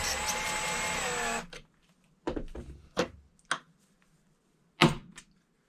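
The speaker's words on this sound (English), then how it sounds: "put it back in the case holder, give it a little wrap, trim it again" Case trimmer cutting a 224 Valkyrie rifle brass cartridge case: a steady close whirring grind for over a second, then a few short separate clunks and scrapes as the case is handled.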